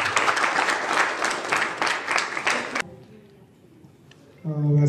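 Loud crowd applause at an art exhibition in Pune, dense clapping for almost three seconds that then cuts off, after which a voice begins speaking.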